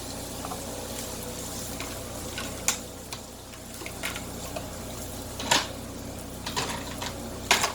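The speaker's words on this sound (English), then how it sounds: "we're going to saute these until soft and tender" Two to three diced carrots with onion sauté in a pan, giving a steady soft sizzle with occasional sharper crackles and pops scattered through, close and moderately loud.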